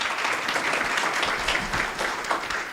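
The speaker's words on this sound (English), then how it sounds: "A warm round of applause to you." Warm audience applause at the AKMCC opening ceremony, a full steady wash of clapping from a large crowd, even and sustained for a few seconds with no speech.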